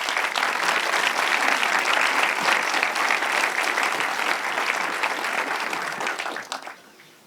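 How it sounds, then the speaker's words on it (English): Audience applause fills the room at an opening-day talk on painting, a dense, steady clapping that holds for about six seconds and then quickly dies away. "A round of applause for them."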